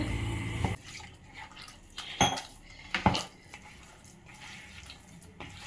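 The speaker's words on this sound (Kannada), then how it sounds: "ಈಗ ಇದಕ್ಕೆ ನೀರು ಹಾಕ್ಕೊಳ್ಳೋಣ" Water is added to roti dough in a metal vessel, with a few brief splashes and trickles mixed with clinks of utensils close by.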